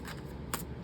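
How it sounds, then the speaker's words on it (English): Tarot cards shuffled by hand, a quick riffle of papery flutters with two brighter bursts, close and fairly quiet, no voices. "And then I'm going to start shuffling."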